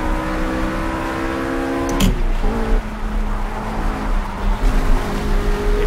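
A RUF RGT 8 flat-six in Project CARS revs high under acceleration, drops sharply with a clunk at a gear change or lift, then pulls again with a steady, loud engine drone.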